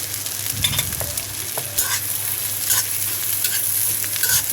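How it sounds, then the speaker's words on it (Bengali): Onion and chopped garlic fry in hot mustard oil, a steady crackling sizzle with bright bursts of spattering and occasional scrapes of a stirring utensil, close and fairly loud. "সরিষার তেলটা গরম হয়েছে, পেঁয়াজটা ভেজে নেওয়ার পরে আমি রসুন কুচি অ্যাড করে নেব এর সাথে"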